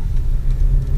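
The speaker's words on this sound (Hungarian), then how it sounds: "Amíg el nem ment az autó" A car passing on a street in Los Angeles, California, a steady low engine rumble and road noise close by, with no talk over it.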